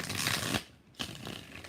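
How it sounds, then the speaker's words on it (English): Tarot cards being shuffled in rapid riffling bursts, a dense rustle for about half a second, a brief pause, then another run of shuffling, close and clear. "5 shuffles."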